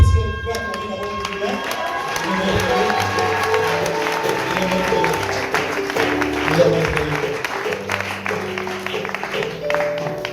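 A church congregation at an evening celebration service cheers and claps together, with sustained applause and crowd noise under a steady musical backing for the whole stretch.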